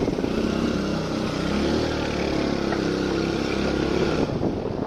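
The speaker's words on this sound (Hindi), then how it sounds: "फिर बाइक निकालकर हम निकल गए जिम के लिए" A motorcycle engine runs loud and close at steady speed on a ride to the gym, a constant rumbling drone that eases slightly before the end.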